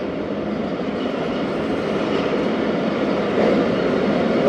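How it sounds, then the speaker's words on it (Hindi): The Zakariya Express pulls away from Jhimpir railway station, a loud steady rumble of the moving train heard from on board, growing slightly stronger toward the end with no talking. "झम्पीर रेलवे स्टेशन से ट्रेन रवाना हो गई है"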